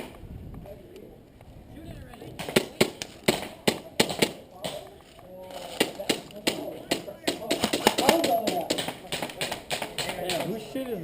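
Rapid bursts of airsoft gunfire from a speed gun during an outdoor airsoft game at Kapolei, sharp cracking shots in quick irregular volleys, fairly near, with people talking throughout.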